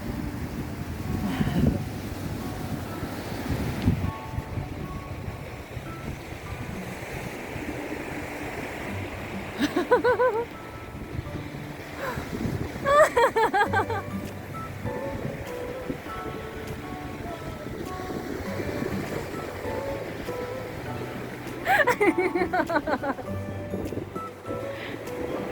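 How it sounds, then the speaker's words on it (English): Gusty wind and breaking waves along the Torquay seafront make a constant broad roar, with brief faint voices and passing sounds rising over it a few times. "So windy."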